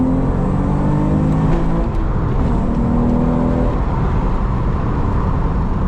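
A six-speed car accelerating hard in first and shifting into second, heard from inside as a loud, continuous engine roar with rising tones, a brief dip at the gear change, then steady pulling.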